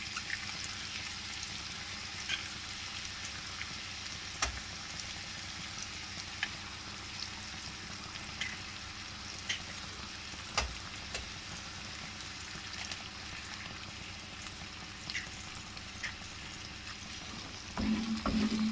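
Eggs frying in a pan on top of prepared masala for a homemade omelette: a steady close sizzle with occasional clicks and stirring scrapes, no talking.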